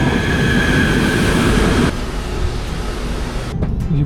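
A train at a railway station in Malaysia gives a loud, steady rumble of rolling stock that eases to a slightly quieter, continuous roar partway through, with no voices.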